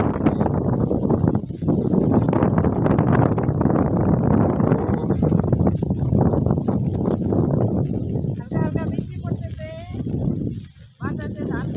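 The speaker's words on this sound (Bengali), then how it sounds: "এখানে প্রচন্ড বাতাস হচ্ছে।" Strong gusting wind sweeps through a village just before rain, a loud, constant roar buffeting the microphone for the whole stretch, easing slightly near the end, with a voice briefly audible under it.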